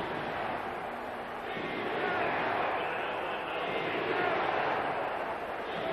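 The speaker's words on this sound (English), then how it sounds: "The Colts have driven this crowd into full frenzy" Stadium crowd at a 1997 Colts home football game against the Buccaneers, roaring in a sustained loud frenzy, broad and distant-sounding, with a commentator's voice running over the noise.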